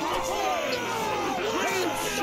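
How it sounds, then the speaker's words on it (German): Crowd cheering in the video game Mount & Blade II: Bannerlord, a dense babble of shouting and whooping voices, fairly loud and continuous. "Na gut, ihr dürft jubeln."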